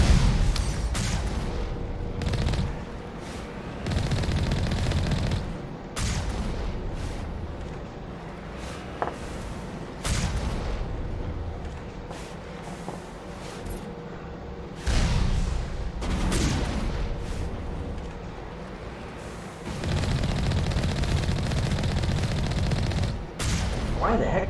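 Heavy cannon gunfire in the video game Mass Effect 1 booms repeatedly in loud bursts amid rumbling explosions and combat noise, with someone talking over the action.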